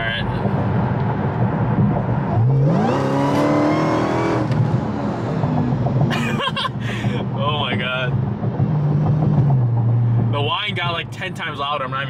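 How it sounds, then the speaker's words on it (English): Supercharged Chrysler 300 Redeye accelerating hard, its loud engine roar climbing in pitch with a sharp supercharger whine on top, sustained and close throughout. "the supercharger whine got so much louder"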